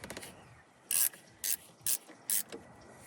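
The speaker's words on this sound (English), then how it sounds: "It's going to be as simple as taking that one bolt off" Mechanical ratcheting bursts from a wrench turning a bolt on a military-style clamp on a Dodge Ram truck, four short bright rasping bursts spaced about half a second apart, close and fairly loud with no talk.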